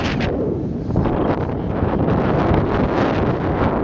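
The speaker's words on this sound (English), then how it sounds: "It's real windy up here." Strong wind buffets and roars across the microphone in loud, gusty bursts at a high spot, with no voices.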